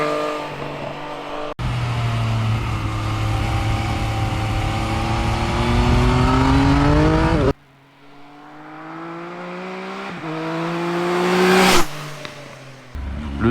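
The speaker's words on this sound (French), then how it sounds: "Oh là là, ce son du 3 cylindres." Triumph Speed Triple 1050 RS three-cylinder motorcycle engine revving hard under acceleration, pitch climbing through the gears with brief drops at each shift, loud and close throughout.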